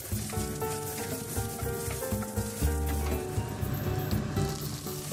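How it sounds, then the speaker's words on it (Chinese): Chopped parsley stems stir-fry in a hot pan, giving a steady close sizzle with faint scraping of a utensil throughout, no voices over it. "将头先嗰啲 parsley 嗰啲茎部咧，即系切碎晒嗰啲咧，放埋落去炒香佢。"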